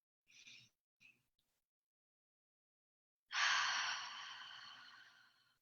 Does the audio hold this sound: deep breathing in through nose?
yes